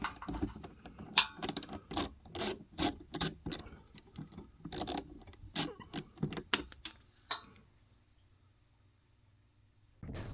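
A Strebito mini ratchet set clicks in quick bursts of sharp ratcheting ticks, close and crisp, in several rhythmic runs before falling quiet near the end.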